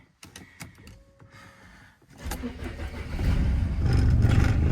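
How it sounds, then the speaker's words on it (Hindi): A car engine is started after sitting unused for a long time, with some clicks and a short whine, then the engine catches and settles into a loud, steady, rumbling idle close by. "गाड़ी स्टार्ट कर रहे हैं।"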